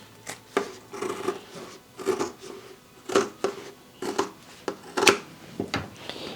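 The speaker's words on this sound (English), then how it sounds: "I'm about to use thicker scissors to get to it." Thick scissors snip through vinyl while sewing a zippered clutch, a series of sharp, close crunching cuts in an irregular rhythm, about a dozen snips with brief pauses between.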